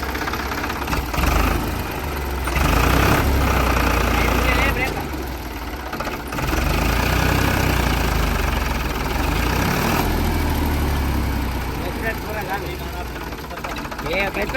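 A tractor engine runs with a loud, low, rough idle that rumbles steadily and swells in brief surges, close by, while people talk over it.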